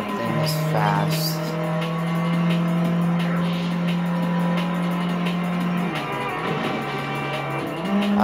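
A fast car races in the Test Drive Unlimited video game, its engine droning steadily at a high, sustained pitch with a brief shift in tone, loud and continuous throughout.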